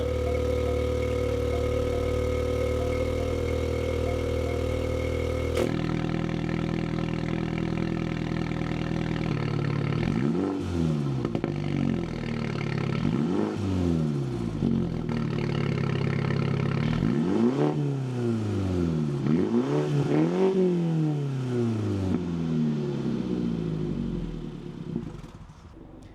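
A Mini Cooper S JCW (F56) with a newly fitted aftermarket exhaust starts up close by, settles into a throaty idle, then revs hard in repeated rising and falling blips, loud and alone with no talking.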